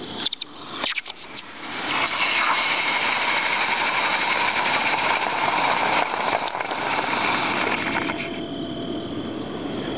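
A hot aluminum ingot freshly cast from melted metal drops into water with a couple of sharp clanks, then a loud, steady hiss of sizzling and boiling that lasts several seconds before easing slightly.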